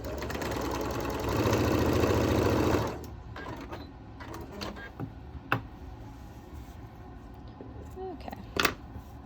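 A sewing machine stitching a quilt block for a tulip design runs steadily for a few seconds, then stops as the fabric gets pulled into the machine. Faint clicks and fabric handling sounds follow.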